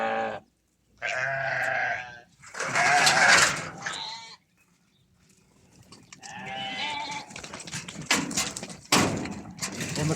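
Goats on a farm bleat in several loud, close calls, some overlapping, with short quiet gaps and scattered knocks and rattles between them.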